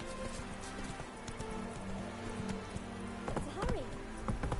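Hooves of the horse Roach clop in a steady, quick galloping rhythm in The Witcher 3, fairly faint and close, with a short whinny-like sound near the end over a quiet game backdrop.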